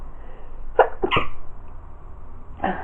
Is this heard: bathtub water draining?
no